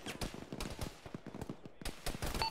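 Gunfire crackling across the battlefield in the military shooter Arma, a rapid, uneven string of sharp cracks and short bursts at moderate loudness, sounding some distance off.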